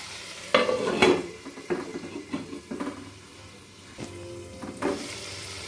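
Tomatoes and spices cook in a covered pan with a splash of water, giving a soft, steady sizzle broken by a few stirring scrapes and lid or utensil clanks; no one speaks.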